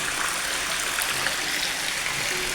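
Water runs steadily over a large metal vessel being cleaned in a small dairy plant that makes basundi, a continuous close hiss of rinsing without pause.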